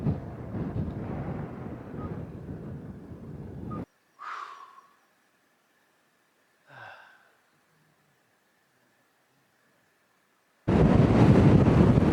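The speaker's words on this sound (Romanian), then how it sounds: "Bate vântul foarte tare aici." Strong wind in the Bucegi mountains buffets the microphone in loud, rough bursts at the start and end, with a quiet stretch between holding faint breaths and gasps.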